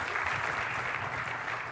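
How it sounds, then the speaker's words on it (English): An audience at a Build 2017 developer conference session claps for a presenter, a fairly quiet, continuous wash of applause lasting only a moment, heard alone without speech. "Give Jason a round of applause"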